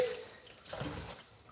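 Tap water running in a kitchen sink while food is washed during bulk meal preparation; a steady, close rush of water that swells slightly midway, with no voices.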